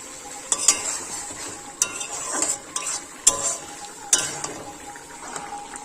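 Taro greens are stirred in a pan, sharp metal spatula scrapes and clinks landing every second or so over a low background sizzle, close and without talk.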